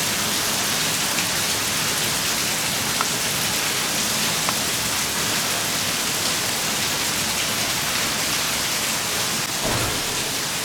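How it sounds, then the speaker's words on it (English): Steady heavy rain pours down ahead of an electric storm in a dense, even hiss, close and loud throughout, with a faint low rumble near the end. "And it's raining."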